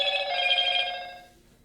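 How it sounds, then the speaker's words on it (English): A cell phone rings with a bright electronic trill, one sustained burst that is loud at first and then fades away, heard alone without talk. "that's my cell phone, which I hate."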